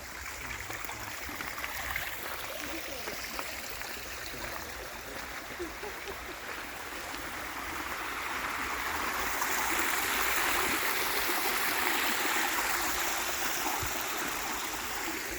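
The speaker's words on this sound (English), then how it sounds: "Isn't there something magical about the sound of bubbling water?" Water bubbling and trickling along a garden stream with small fish and dragonflies at the Huntington Library and Gardens in San Marino, California; a steady close wash of flowing water that grows slightly fuller partway through, with no talk.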